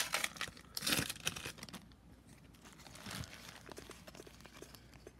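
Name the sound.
hockey card pack wrapper being torn open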